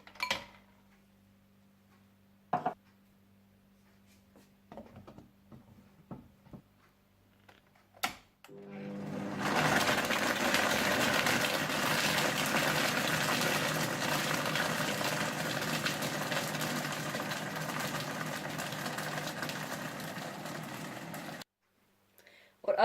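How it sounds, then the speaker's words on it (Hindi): A blender whirs loudly and steadily for about twelve seconds, blending a mango shake with brown sugar, vanilla essence and crushed ice, preceded by soft clicks and small kitchen sounds, then it stops abruptly. "ब्राउन शुगर, वनीला एसेंस और क्रश्ड आइस डालकर अच्छी तरह से ब्लेंड कर लें।"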